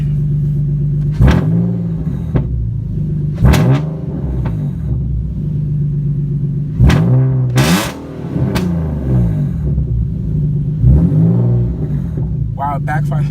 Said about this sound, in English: Wow, it backfired.